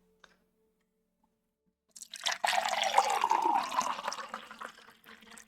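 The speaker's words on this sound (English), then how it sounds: "Water pour." Water pours steadily into a container for about three seconds after a silent stretch, a close, rushing splash that slowly tapers off.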